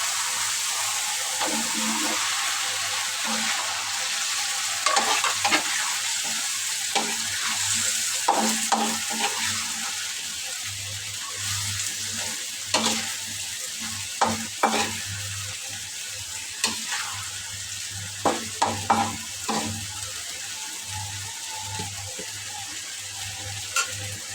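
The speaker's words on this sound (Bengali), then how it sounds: "দশ থেকে পনেরো মিনিটের মতো মশলাটা কষাই নেবে" Spice paste for a fish and radish curry fries and is stirred in a pan, a steady sizzle broken by repeated scraping strokes that grow more frequent toward the end, with no voices.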